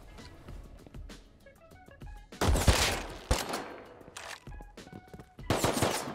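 Scattered gunshots in the video game Rust pop in quick succession, then heavier bursts of automatic fire erupt loudly, separated by short gaps with faint metallic clinks.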